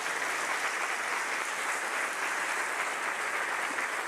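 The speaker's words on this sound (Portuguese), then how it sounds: "uma salva de palmas a Jesus Cristo." A church congregation at an Easter service claps steadily for several seconds, dense and even applause with no voices over it.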